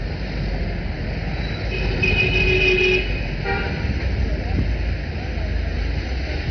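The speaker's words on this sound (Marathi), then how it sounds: "उद्धव ठाकरे यांचा ताफा सध्या मोर्चाच्या ठिकाणी दाखल झालेला आपण पाहतोय" Car horns sound from Uddhav Thackeray's convoy arriving at a protest march site in Mumbai, with a sustained toot or two rising over a steady wash of traffic and crowd noise.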